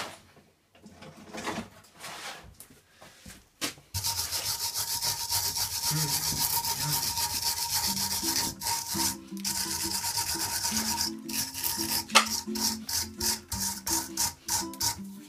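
A car's stabilizer bar is scrubbed clean by hand with steady, close rasping strokes that continue for a long stretch in a quick back-and-forth rhythm.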